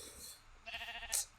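Sheep bleating in Minecraft on the TerraFirmaRescue modpack: a short, wavering bleat followed by a brighter second cry, fairly clear and heard alone.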